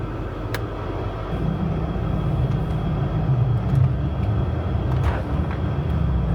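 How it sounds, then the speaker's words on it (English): A BMW M5 driving through deep snow, a steady low engine rumble and tire drone, continuous and fairly close, with a couple of faint brief clicks. "let's go for a little drive in the snow"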